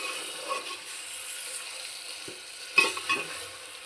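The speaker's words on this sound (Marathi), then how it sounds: "चिकन आता आपण परतवून घेऊया" Chicken stir-fried in oil-rich Saoji masala in a pan, a quiet sizzle under a few scraping stirs and clinks of a spoon against the vessel.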